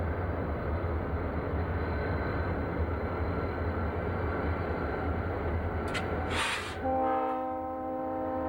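A Delaware and Hudson freight train led by a pair of former Baltimore and Ohio locomotives rumbles steadily nearby, then a loud, sustained multi-tone horn blast sounds near the end.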